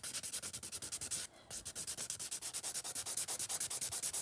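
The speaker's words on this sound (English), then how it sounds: "I always like to just kind of file off the sides just a little bit" A nail file rasps rapidly back and forth along the sides of a fingernail during a dip-powder manicure, a quick, regular scratchy stroking, close and fairly quiet, with one brief pause partway through.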